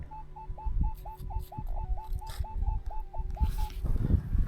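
A metal detector sweeps over ground while searching for coins, giving a run of short, evenly repeated beeping tones over the faint scrape and thump of the coil and digging, with no speech.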